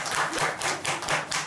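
Audience applause at a Buddhist dharma talk, a steady wash of many hands clapping together for the whole stretch, fairly close and dense, with no voices.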